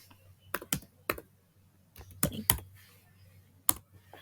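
Someone types on a computer keyboard during an SQL tutorial, with a sparse run of about ten quiet, crisp keystrokes, some in quick pairs, separated by short pauses in a quiet room.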